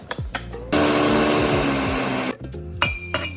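A food processor chops chickpeas in one loud, continuous whirring run of about a second and a half, bracketed by short clunks and taps before and after.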